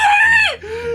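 A person's voice imitates a bear scream: one loud, close, harsh screech that bends downward, then trails into a lower sustained tone.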